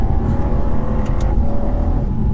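A BMW M2 at full throttle in comfort mode, its engine roaring loud and steady from inside the cabin, a continuous close drone under hard acceleration.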